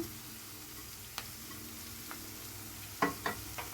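Grated raw mango with turmeric and salt cooking in a pan for mango chitranna, giving a faint steady low sizzle with a few soft scraping stirs and clinks near the end.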